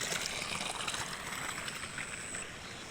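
Floodwater after heavy rain rushing through a breached earthen field bund in a village paddy, a steady broadband hiss and gurgle of flowing water heard close and continuous.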